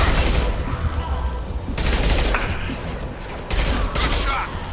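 Rapid bursts of gunfire crackle through a firefight in Mass Effect 2 Legendary Edition, dense and continuous with brief lulls, close and loud, with voices talking over the shooting.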